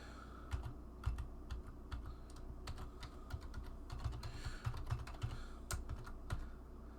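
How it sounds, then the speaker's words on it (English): Quick, steady typing on a computer keyboard, a close run of soft clicking keystrokes with uneven rhythm, heard alone over a low room hum. "I'm just typing in my email address"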